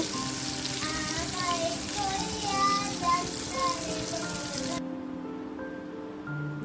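Grated boiled potato with onion frying in a pan, a steady close sizzle and crackle that drops away abruptly near the end, leaving a quieter background.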